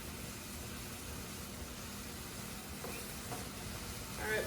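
Seasoned chicken frying in a pan, giving a faint, steady sizzling hiss with no talk.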